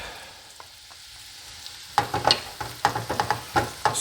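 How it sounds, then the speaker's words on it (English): Shallot and garlic frying in butter in a pan, a soft sizzle that turns into a run of quick stirring scrapes and clinks, close and fairly quiet, with no talking. "Stir that in a little bit just to get it tossed up in the butter"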